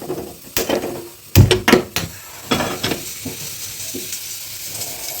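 A pressure cooker set down on a gas stove for cooking rice, with a few sharp metallic clunks and knocks up close, brief scraping, and a faint background hiss; no talking.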